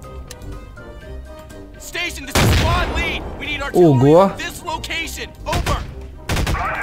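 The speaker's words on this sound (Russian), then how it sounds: "Слышите взрывы эти? Это с неба летят." Air strike explosions raining down from the sky in the video game Garry's Mod, several loud booming blasts in quick succession mixed with gunfire-like crackle, with an excited voice exclaiming between them.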